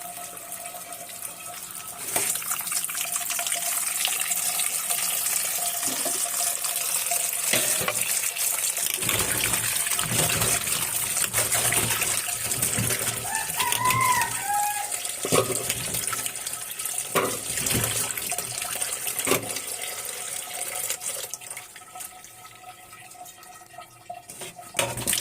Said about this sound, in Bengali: এখন লাউটা ধুয়ে নেব।